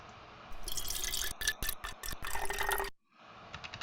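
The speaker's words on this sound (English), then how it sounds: "a person pouring water from a pitcher" Water pours from a pitcher in short bursts that stop and start as the pitcher is rapidly wiggled, giving a splashy, bright stream broken into pieces, then a brief silence and a fainter trickle.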